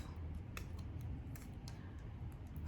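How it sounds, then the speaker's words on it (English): Tape being peeled off the back of a sublimation dog tag, quiet close-up crinkling and scattered ticking snaps, faint and irregular. "I can go ahead and take the rest of this tape that I had on the back of here off"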